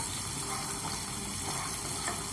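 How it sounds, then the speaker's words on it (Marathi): Finely chopped onion sizzles in a hot pan as it is stir-fried, a steady, dense frying hiss with no talking. "हे व्यवस्थित परतूया आपण। बघा कांदा परतून झालेला आहे।"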